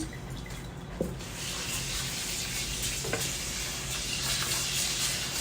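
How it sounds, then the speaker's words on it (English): Tap water runs steadily into a sink as rice is rinsed until the starchy, cloudy water turns clear, a continuous close hiss with a couple of brief splashes and knocks. "we're gonna rinse the rice until we get a more clear"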